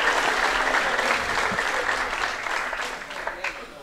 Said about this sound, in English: So takes his applause.